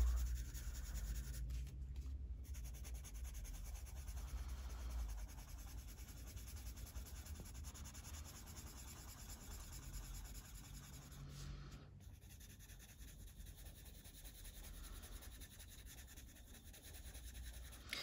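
Coloured pencil scratches on paper while colouring a page, a continuous soft rubbing and scratching with brief pauses as the pencil lifts.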